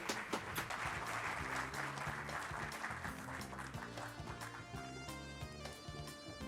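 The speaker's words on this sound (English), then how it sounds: "Merci d'applaudir très, très, très, très." Audience applause breaks out at the World Environment Day launch ceremony, a steady, dense wash of clapping sustained throughout, with music playing underneath.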